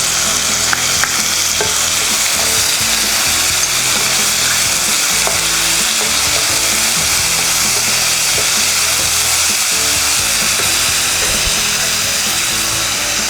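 Chopped tomatoes fry with softened onions in a pan for a vegetable kurma, giving a close, loud, steady sizzle with occasional stirring scrapes throughout and no talk.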